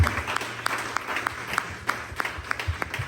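A church congregation applauds for Jesus with scattered, uneven claps and sharp individual hand strikes over a soft murmur of the crowd, fairly quiet overall.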